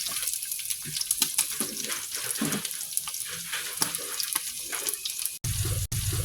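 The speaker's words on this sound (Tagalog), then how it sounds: "Pwede na lagyan na natin ng tubig." Water running and splashing into a cooking pot during a sauté of garlic, ginger and onion for patola with misua, a steady close rushing pour with small clatters that cuts off near the end.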